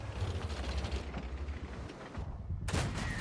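Booming shell fire rumbles continuously in a World War II tank video game, a low rolling barrage with a sharp loud burst near the end.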